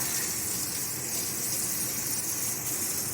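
Steady, fairly quiet stream of running water from a tap as crawdad tails are rinsed, a continuous hiss and splash without pauses.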